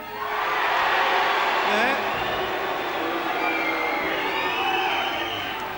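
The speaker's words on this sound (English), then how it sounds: "It's a loud crowd, they're half pissed, that's why." The studio audience at The Footy Show's 2006 grand final episode keeps up a loud, boisterous roar of cheering and chatter, with a voice speaking briefly over the noise.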